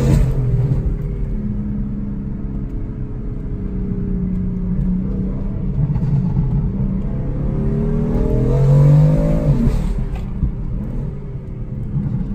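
A tuned BMW M4 engine rumbles steadily and loud, swelling into a rev that climbs and then drops back, heard alone without talk.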